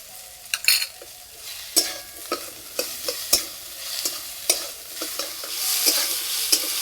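Cauliflower fries with ginger garlic paste as a spatula stirs and scrapes the pan repeatedly, a close, steady sizzle punctuated by regular metallic clicks.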